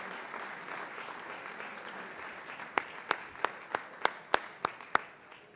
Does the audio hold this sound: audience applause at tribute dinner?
yes